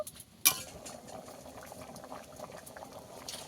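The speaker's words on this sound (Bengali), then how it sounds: "এদিকে ঘুগনিটা ফুটতে থাকো" A pot of ghugni, a dried pea curry simmered in the peas' cooking water, bubbles steadily with soft, close popping and gurgling and one sharp clink near the start.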